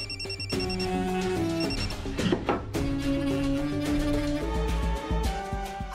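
An electronic phone ringtone loops steadily for several seconds, a bright repeating melodic pattern, loud and close, with no one speaking.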